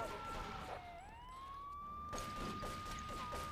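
In the video game GTA 3, an ambulance siren wails with a steady rising and falling tone alongside game traffic and ambient noise, moderately distant, with no talking.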